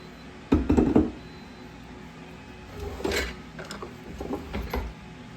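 A KitchenAid stand mixer kneads sandwich bread dough with a faint background hum broken by a few close, irregular knocking thumps and mechanical clunks as the dough slaps around the bowl.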